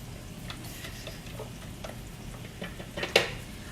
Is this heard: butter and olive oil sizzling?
yes